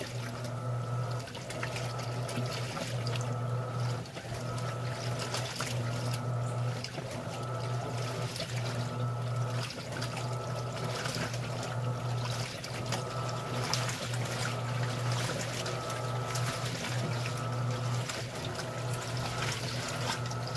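Water pours steadily into an Electrolux top-load washing machine tub packed with shirts, a continuous rushing fill with a low motor hum underneath, running unbroken throughout.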